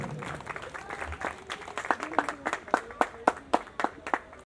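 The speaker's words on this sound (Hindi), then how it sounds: "आप सभी ताली जरूर बजाएं।" A ceremony crowd applauds as someone is honoured on stage. Scattered clapping starts loosely, then settles into sharp, rhythmic hand claps that grow louder and more distinct toward the end.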